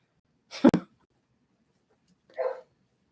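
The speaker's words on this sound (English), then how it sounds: "I would say, based on Adler's barking, that it is about to storm" Two short barks from a dog nearby, a sharp one followed after a pause by a softer, muffled one.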